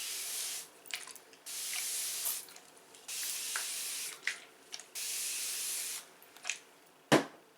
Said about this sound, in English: I'm just going to spray a little bit of water over my entire head.